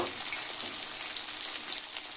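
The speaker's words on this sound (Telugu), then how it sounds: "అన్నింటినీ మంచిగా ఫ్రై చేసుకోవాలి." Curry leaves and spices fry in a pan with a steady, bright crackling sizzle, close and even, with no talk.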